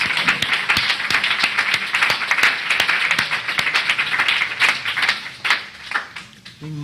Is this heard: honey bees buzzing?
no